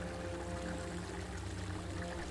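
Water runs steadily into a sink inside a kitchen in the video game ESO, a soft continuous pouring and trickling stream at low volume with no voices.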